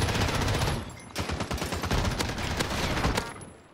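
Rapid bursts of automatic gunfire from a first-person shooter video game, loud and dense throughout, with sharp repeated shots crackling over a steady roar of game audio.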